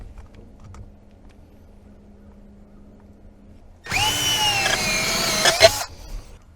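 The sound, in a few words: step drill boring through pontoon boat floor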